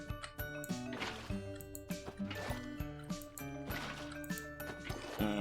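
Water is placed to irrigate farmland in a video game, heard as a quiet run of soft liquid drips and squishy placement sounds repeating in an irregular rhythm, with no talking.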